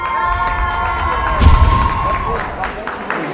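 A crowd at a German hip hop dance championship qualifier cheers and shouts, swelling briefly over a whistling tone and a loud voice, with scattered thumps.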